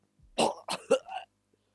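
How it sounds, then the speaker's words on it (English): Three or four short, harsh coughs in quick succession, fairly close, followed by silence. "As Deku's coughing up blood at this point."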